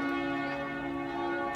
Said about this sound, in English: It's at 12 o'clock, so the bells are going off.